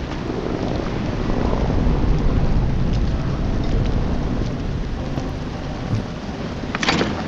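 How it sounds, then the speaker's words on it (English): Thunder rumbles on a ghost ship in a video game, a long heavy roll under wind and rain that swells and fades over several seconds, with creaks near the end. "Clap of the thunder."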